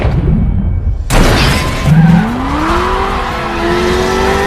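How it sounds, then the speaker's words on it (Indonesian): A sports car's tyres squeal and skid as it brakes suddenly, a sharp rising screech that cuts in over loud vehicle noise and then trails off into a drawn-out tone. "muncullah Cortez dengan mobil super cepatnya melewati mereka, mengerem dadakan sampai membuat mobil mereka terguling"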